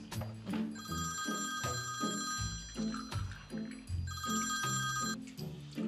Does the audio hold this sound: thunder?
no